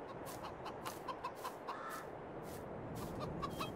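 Chickens in Farming Simulator 22 clucking near a coop shelter, a series of short, fairly faint clucks and squawks spread irregularly over a soft background hiss.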